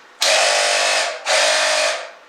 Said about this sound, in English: This is a little 12-volt car compressor, and I've wired it up to an old drill attached to an old battery